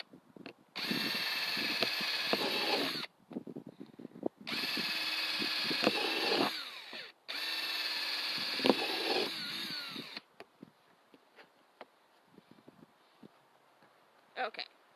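A power drill bores drainage holes into a potato container: three sustained whining bursts of a few seconds each, separated by short pauses, then faint clicks and handling sounds.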